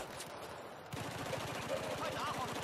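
Rapid automatic gunfire in a 5v5 Xbox 360 shooter match, a steady rattling burst of shots after a short quieter start, with players' voices in the mix.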